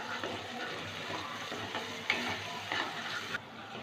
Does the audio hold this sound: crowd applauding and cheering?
no